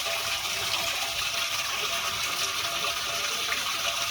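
Tap water runs steadily into a nearly full container, a constant close, hissing gush with no pauses and no voices.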